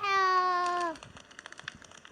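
A Minecraft cat gives a single drawn-out meow lasting about a second, fairly clear and close. Faint, sparse in-game clicks and ticks follow.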